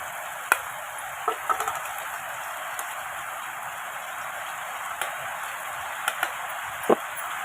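Onion hitting hot oil with cumin and mustard seeds in a home kitchen pan, a soft steady sizzle with scattered small pops and ticks, fairly quiet and close.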